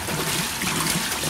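Flowing water at the resort water wheel in Lamai Beach makes a steady, close trickling and splashing, continuous and fairly soft, with no voices.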